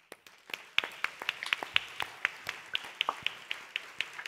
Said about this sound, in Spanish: Y este es el aplauso.